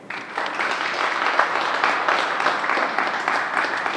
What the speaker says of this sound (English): I want to give another round of applause to Jennifer